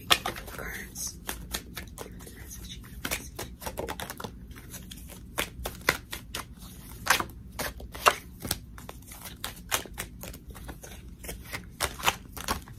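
Tarot cards are shuffled by hand in quick, crisp riffling bursts and flicks, an irregular close-up clatter that runs continuously, with a faint voice underneath.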